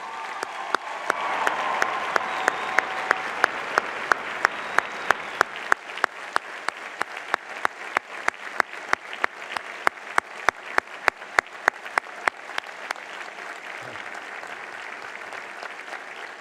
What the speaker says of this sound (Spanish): A ellos también merecen un fuerte aplauso.